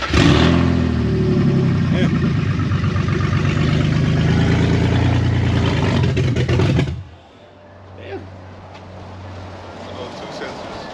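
A BMW M54B30 inline-six fitted with headers runs loud and close with a rough, chopping idle for about seven seconds, then shuts off, leaving a low hum and quiet background; a voice talks over it.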